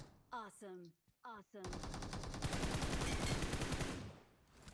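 A rapid burst of automatic rifle fire lands headshots in PUBG Mobile, a dense loud rattle lasting a few seconds after a short voice at the start.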